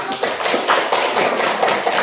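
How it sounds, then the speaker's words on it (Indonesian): Clapping from a classroom audience during a lesson presentation, a dense, steady patter of many hands lasting about two seconds at moderate loudness, with no talking over it. "Tepuk tangan dong"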